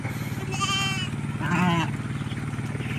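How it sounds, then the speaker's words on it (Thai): Crossbred sheep bleating close by, two wavering calls in quick succession over a constant low engine-like rumble. "แกะลูกผสมเลี้ยงง่าย"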